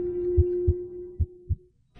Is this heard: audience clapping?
no